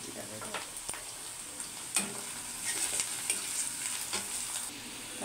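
Onions frying with chili powder and turmeric in a pan, a soft continuous sizzle with occasional stirring knocks and scrapes, fairly quiet and steady throughout.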